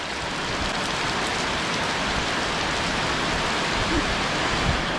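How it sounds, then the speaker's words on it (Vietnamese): Heavy rain pours steadily onto a house roof in the countryside, a dense, loud, unbroken hiss of water throughout with no pauses and no voices. "còn bữa nay là mưa lớn nè."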